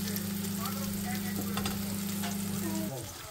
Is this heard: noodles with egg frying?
yes